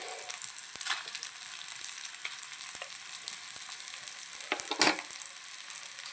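Chillies sizzling and frying in a pan for a Kerala-style roasted-coconut chicken curry, a steady broadband crackle with occasional stirring scrapes and one louder burst near the end, no voices.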